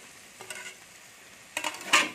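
Fried potato, eggplant and chickpeas go into a pan of cooked spice mix, giving a quiet sizzle with soft scraping stirs and a couple of louder clatters toward the end.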